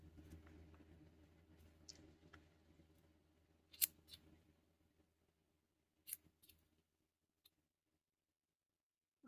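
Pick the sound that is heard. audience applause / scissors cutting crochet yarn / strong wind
scissors cutting crochet yarn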